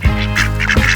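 Ducks quack loudly and close by, several nasal calls in quick succession with no talking.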